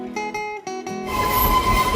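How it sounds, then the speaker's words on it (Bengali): A narrow-gauge toy train rolls along its rails on the way to Kinnaur Kailash, with harmonic squeals and tones pulsing at first, then a steady broadband rumble of wheels and carriages that grows slightly louder, near and continuous. "এই ট্রেন এই টয় ট্রেন এখন বাকি গন্তব্যের দিকে যাচ্ছে"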